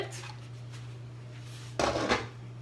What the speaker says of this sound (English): Open the lid.